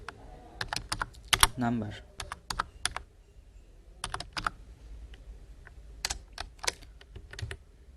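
Close clicks of a computer keyboard as C code is typed, coming in quick bursts of keystrokes separated by pauses, with someone speaking briefly over the typing.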